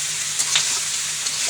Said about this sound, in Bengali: নাড়া দিয়ে ভাইজে নিই।